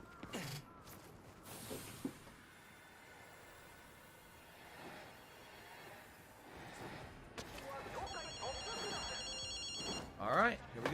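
A payphone rings in a video game, a rapid electronic bell trill near the end, heard under a person talking and other game sounds.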